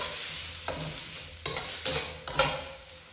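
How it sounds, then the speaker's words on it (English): Garlic, shallot, ginger and white scallions stir-fried in a pan: a constant oil sizzle broken by four or five sharp scraping stirs of a utensil against the pan, close and clear. "garlic, some of the shallot, some of the ginger again, and stir frying that together"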